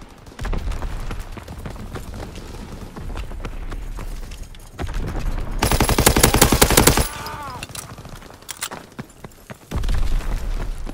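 Rapid gunfire rattles through a Call of Duty WW2 battle, with scattered shots and thuds building into a loud, fast machine-gun burst, then fading and returning in heavy bursts.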